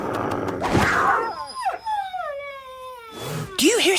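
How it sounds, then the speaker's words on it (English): A dog howls in long, wavering, rising and falling wails with a whimpering edge, loud and close, sustained over several seconds with a noisy burst at the start and another near the end. "Do you hear something? Like maybe that dog?"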